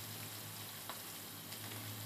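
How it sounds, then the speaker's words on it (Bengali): Aikon fish frying in a pan, a soft, continuous sizzle at low level with a couple of faint stirring clicks, no voices. "প্রথমে আইকন মাছগুলো ভেজে নিব"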